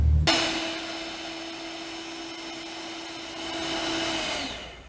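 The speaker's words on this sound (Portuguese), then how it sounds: "E agora nós vamos bater então com a batedeira." An electric stand mixer starts abruptly and runs at a steady, loud whir while beating ganache, holding an even motor tone throughout with a slight rise in strength near the end.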